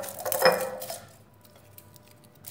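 Separated garlic cloves dropping into a glass container, giving a short cluster of close, bright clinks and rattles at the start before the sound settles into quiet room tone.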